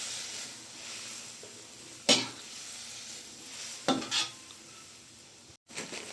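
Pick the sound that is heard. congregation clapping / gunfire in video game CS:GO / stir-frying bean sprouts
stir-frying bean sprouts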